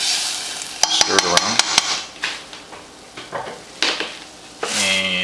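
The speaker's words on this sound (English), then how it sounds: "stir it around, and the heat is off" Steel cut oats and water are stirred in a pot with the heat off. A spoon knocks sharply against the rim several times, then scrapes and swishes in slower, louder strokes close by, with no talk.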